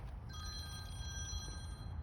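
Mobile phone ringing on a golf course, a bright electronic ring tone starting a moment in and continuing over faint outdoor background.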